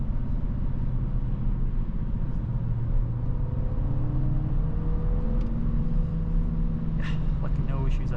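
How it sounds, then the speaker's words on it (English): Steady 2025 Audi A5 engine hum with rising and falling rev tones, heard from inside the car going slightly downhill, with a voice briefly speaking near the end. "Let's just put back to see the revs here. You see the engine revs here."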